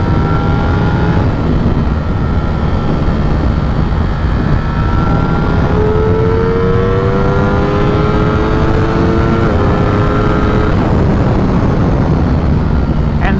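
Ducati Streetfighter V4 motorcycle accelerating hard at highway speed, its engine note rising steadily under heavy, constant wind roar.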